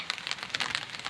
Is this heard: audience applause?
no